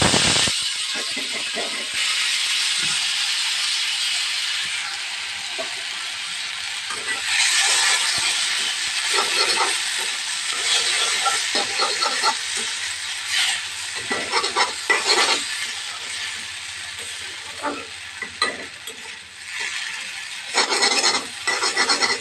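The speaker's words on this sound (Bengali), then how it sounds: "এবার নুডলসটাকে গরম তেলের ভিতরে দিয়ে দিতে হবে।" Boiled noodles fry in hot oil while being stirred and scraped around the pan: a steady close sizzle with repeated rhythmic scraping and clacking of the utensil, continuing throughout with no talking.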